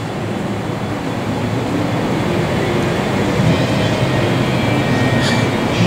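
An old Willys Jeep fitted with a machine-gun style supercharger runs at the SEMA 2012 show, producing a loud, constant broadband roar that holds steady without a break.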